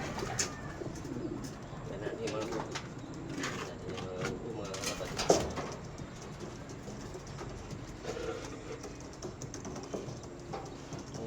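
Soft cooing of racing pigeons amid background chatter and rustling, a low murmur of bird calls layered under scattered voices and clicks.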